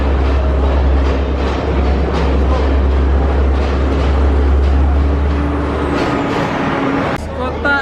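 Crowded passenger train in Sri Lanka, a steady loud rumble of the moving carriages with low engine drone and rattling, continuous throughout, with crowd chatter underneath and a brief clatter near the end.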